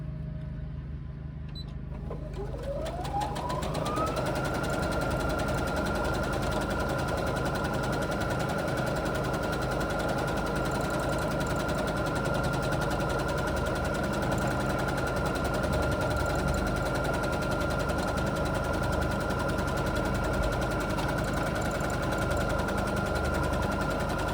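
A sewing machine doing free-motion quilting of pebble shapes whirs up to speed after a quiet start, then runs in a steady, even motor hum for a long stretch.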